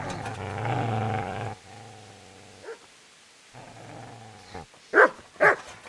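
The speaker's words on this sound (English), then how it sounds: "Get away, you mutt!" Dog growling and snarling in Kingdom Come: Deliverance, a sustained low growl at first, then quieter rumbling, ending with two sharp, loud barks close by.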